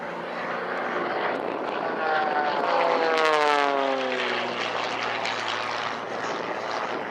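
An XtremeAir XA41 aerobatic plane performs a display at Dunsfold Wings & Wheels 2014, its propeller engine droning steadily with a rising and falling pitch sweep as it manoeuvres, heard alone at moderate distance.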